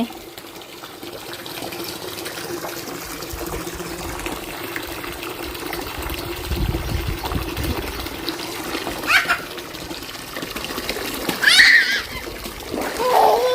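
Water gushes and splashes onto the ground while a mango tree is watered outdoors, a loud, continuous wash that swells with bursts of splatter, with a few voices briefly heard.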